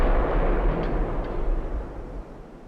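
Warship guns and torpedo strikes in Ultimate Admiral: Dreadnoughts rumble as a dense, continuous low boom, a heavy wash of naval fire with no clear separate shots, loud throughout.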